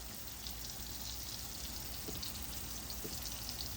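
Onion rings frying in oil in a skillet, a soft, even sizzle with a light crackle, steady and close, with no talk over it.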